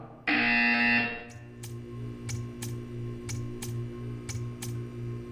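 A loud electronic buzzer sounds in the Portal 2 video game, a single steady tone lasting about a second, followed by a regular series of sharp ticking clicks over a low hum.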